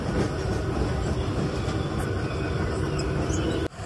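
A crowded Mumbai local train runs at speed, its carriage filled with a loud, continuous rumble and rattle of wheels on rails; a sharp jolt near the end, with no voices.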